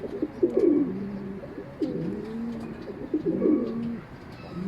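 Racing pigeons coo in repeated low, rolling phrases close by at a loft, several overlapping calls with faint ticking and background noise, no talking.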